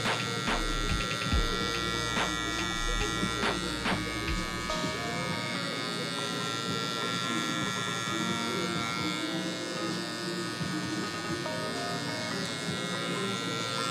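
Electric hair clippers buzz steadily while cutting a high taper fade, a close continuous motor hum with a few brief clicks and strokes early on, under faint background sound.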